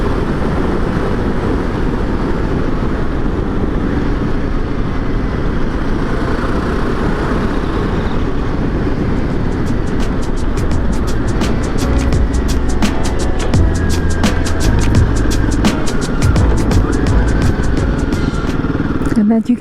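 A Royal Enfield Himalayan 450 motorcycle rides along a scenic road in Wales with a loud, constant engine drone and heavy wind rumble throughout, joined later by a rapid ticking rattle.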